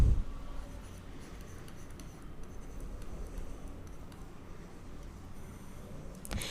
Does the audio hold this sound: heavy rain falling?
no